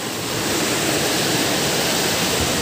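Canding Falls pours in a dense, continuous roar of falling water, loud and close, with no breaks for the whole stretch.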